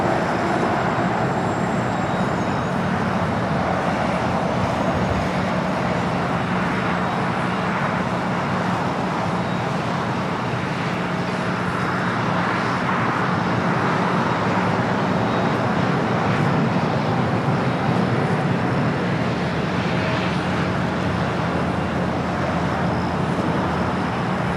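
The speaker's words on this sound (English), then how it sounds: "let's go to Air New Zealand, the 777 at 300ER up next for arrival." An Air New Zealand Boeing 777-300ER arrives at Los Angeles International Airport, a steady, loud broadband jet roar with a low rumble that holds constant throughout, mixed with general airport background noise.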